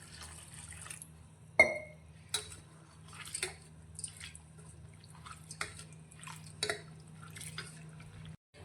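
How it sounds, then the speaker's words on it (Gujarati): Thick poha is washed in a vessel of water, giving faint splashes and drips with soft clinks against the pot, scattered irregularly over a low steady hum. "હવે આ પૌવાને આપણે 2 થી 3 પાણીએ સારી રીતે ધોઈ લઈશું."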